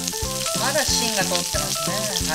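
Mochi wrapped with meat and cheese frying in a pan over the heat, sizzling steadily and close by while a person talks over it.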